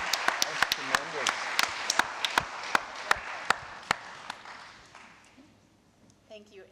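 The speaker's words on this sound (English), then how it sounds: "Can we have another round of applause for Jean, Michael, Michelle?" Audience applause rings out as sharp, spaced claps over a soft crowd bed, thinning out and fading near the end.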